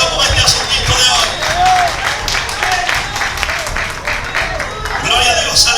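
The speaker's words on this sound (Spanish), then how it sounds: "Dale un fuerte aplauso al Señor" Loud, sustained congregation applause at an evening church service, dense clapping mixed with cheering and crowd voices, rolling on for several seconds with a few shouts rising above it.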